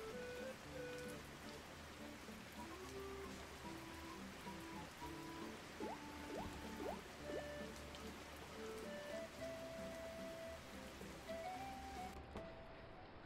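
Rain from the video game Kitaria Fables falls as a steady, faint patter throughout, under soft melodic game music tones.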